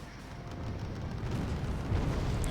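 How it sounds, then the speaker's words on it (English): A bomb explodes in the real-time strategy war game Wargame Red Dragon. It swells into a heavy, rumbling, low roar that grows louder and stays sustained, with no voices over it. "Bomb and run. One bomb."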